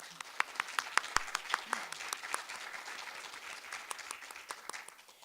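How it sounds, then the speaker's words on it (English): A fairly quiet audience applauds student poetry recitation champions at a Poetry Out Loud competition, with scattered distinct claps close by standing out over softer clapping from a modest crowd. "I think they deserve an applause."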